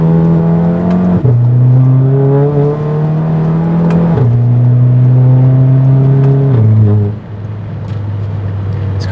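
A Volkswagen Mk7 GTI engine drones steadily, its pitch stepping up through gear changes as it drives, loud and close, ending on a lower steady hum.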